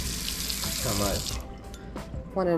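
Warm water running from a kitchen tap to make yeast for pizza dough, a loud, steady gush from the start, with a person speaking briefly over it partway through.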